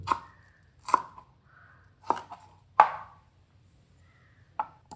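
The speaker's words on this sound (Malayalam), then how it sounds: "ഇതിലേക്ക് വേണ്ട കുറച്ച് പച്ചമുളക് അരിഞ്ഞെടുക്കുക" Green chillies are chopped with a knife on a board in five or six sharp, separate strikes spaced unevenly about a second apart, close and fairly quiet, with silence between cuts.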